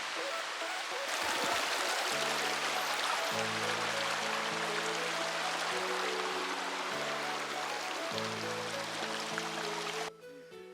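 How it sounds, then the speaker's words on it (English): Rushing water of the Kianmarg waterfall in Kashmir, on an autumn trek near Gulmarg at about 3,000 meters, roars as a steady broadband wash while a musical background with sustained tones plays over it, until the rush drops away near the end. "So this is the Kianmarg waterfall."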